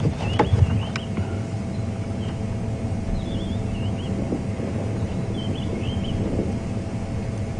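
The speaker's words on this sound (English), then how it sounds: "You can see that wind gusting, moving the grass stalks around him." Wind gusts across open savanna grass at Djuma Game Reserve, a steady low rumble buffeting the microphone throughout, with faint distant bird calls above it.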